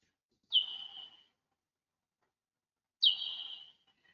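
Two slowed-down recordings of a bat's echolocation call, each a bird-like chirp that drops sharply in pitch and then trails off over about half a second, set a few seconds apart against silence.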